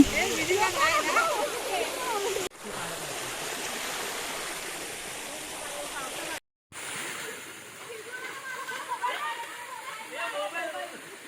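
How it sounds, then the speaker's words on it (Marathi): A small waterfall running with low water flow after little rain gives a steady, rushing wash of water, with people talking over it at the start. "इथे सुद्धा एक छोटासा धबधबा होता पण पाऊस जास्त नसल्यामुळे पाणी इथे कमी होतं"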